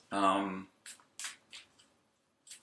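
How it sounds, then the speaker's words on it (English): A brief voiced sound opens, then quick riffling bursts of tarot cards being shuffled, a few short flicks separated by pauses, close and clear. "So what I'm going to do now is give them a quick shuffle"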